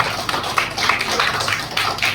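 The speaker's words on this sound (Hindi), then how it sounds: "मैं चाहूंगा जोरदार तालियां सरजूराम जी, जोरदार तालियां।" An audience claps together at a Teachers' Day celebration held by a Jharkhand Goju Ryu karate association, dense steady applause from many hands filling the whole moment, fairly loud and close.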